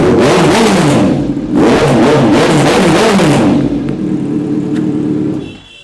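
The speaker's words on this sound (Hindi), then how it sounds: "आवाज तो धांसू हो रखी है इनलाइन 4 वाली" A Kawasaki Z900 inline-four motorcycle revs loudly up close, with three sharp rising-and-falling exhaust blips before settling to a rough idle that cuts off at the end.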